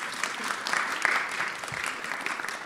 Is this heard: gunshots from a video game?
no